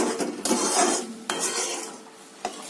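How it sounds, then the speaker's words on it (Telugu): A spoon stirs sugar into thickening milk for basundi in a metal pot, giving close scraping strokes with sharp clinks against the pan's side. "పంచదార వేసిన తర్వాత మళ్ళీ కొంచెం కలుపుకుందాం"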